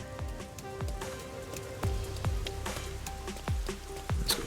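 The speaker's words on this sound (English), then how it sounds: "It's raining today too." Rain falling in the Master Detective Archives: Rain Code video game, a steady patter of drops on surfaces with scattered louder splashes, alone with no talk.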